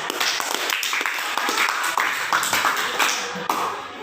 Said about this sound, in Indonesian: beri aplaus untuk Devi